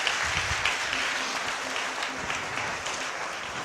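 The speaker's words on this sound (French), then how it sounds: "On va applaudir pour ça. Applaudissons pour ça." Church congregation applauding during a service in Côte d'Ivoire, a steady dense patter of clapping at moderate level from start to finish, with a faint low tone running briefly underneath.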